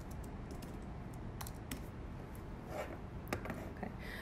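Soft, quick keystrokes on a computer keyboard in a quiet room, a few scattered taps over a low background hiss with no talking.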